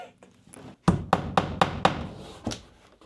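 A nail is driven by hammer at an off-grid build in Alaska, with five evenly spaced, sharp, close blows and a final lighter tap after a few quieter knocks.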